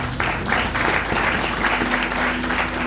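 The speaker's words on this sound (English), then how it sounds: "We can clap hands for that." Congregation clapping hands during a church service, a loud, fairly rhythmic group clap close by, with a low hum and some background voices underneath.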